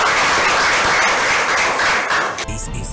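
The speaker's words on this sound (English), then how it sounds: "Can you clap for Doom Doom?" Studio audience of a Nigerian TV reality show breaks into loud, thick clapping that carries on for about two seconds before giving way to other sound.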